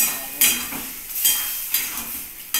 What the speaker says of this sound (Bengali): এইবার এই ডালটাকে এর মধ্যে কষিয়ে নিচ্ছি।